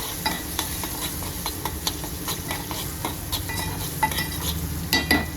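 Onions and tomatoes sizzle steadily in a pan while making Schezwan rice, with frequent spoon-stirring clinks and scrapes over the continuous frying hiss, close and without talk.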